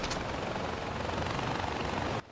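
A helicopter in the video game Far Cry 4 roars with a dense, constant rotor thrum, loud and close, holding steady for two seconds before cutting off abruptly.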